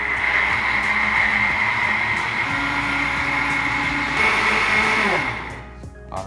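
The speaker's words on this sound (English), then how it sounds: "now we simply just gotta put it into our blender. And we're gonna blend it up so that it becomes almost into a puree." A kitchen blender purees sauce ingredients with a loud, steady motor whir that runs close and continuous for several seconds. The whir then spins down and stops, with no talking.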